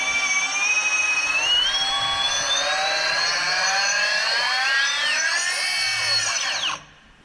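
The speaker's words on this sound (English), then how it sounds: "This is where the arms and the motors are tested." Drone arm motors under test in a robotics factory whine loudly and steadily, their pitch sweeping and layering as speeds change, before cutting off abruptly near the end.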